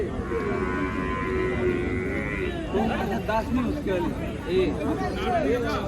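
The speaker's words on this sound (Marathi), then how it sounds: "ही म्हैस वगैरे बघा मोठी म्हैस आलेली बाजाराला" Water buffalo low and moo amid the murmur of a crowded livestock market in Dhule, with people chattering nearby throughout.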